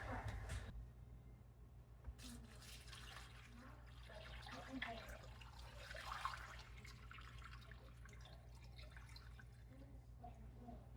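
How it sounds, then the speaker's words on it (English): Filtered water from a Berkey filter runs into a crock pot in a soft, steady trickle with occasional drips, faint and close in an otherwise quiet kitchen. "I use filtered water from our Berkey and just fill her up."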